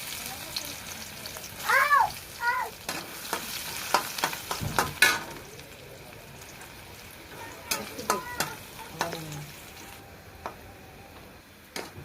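Chopped garlic sizzles in a hot pan as it is stirred, the steady frying hiss broken by scraping and clinking of a utensil, with occasional squeaky tonal sounds mixed in.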